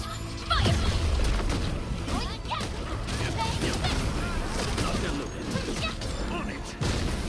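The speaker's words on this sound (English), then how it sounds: "Target locked. Fire!" Weapon fire in Arknights Endfield rattles through a busy game battle, with clanking mechanisms, crashes and sharp bursts over steady combat noise while voices speak in the game.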